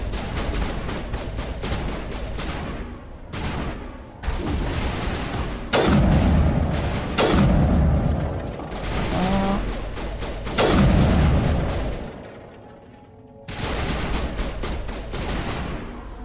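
Assault rifle gunfire in the video game Mass Effect Legendary Edition: loud sustained automatic bursts and booming shots in repeated volleys, broken by brief pauses with softer game ambience between them.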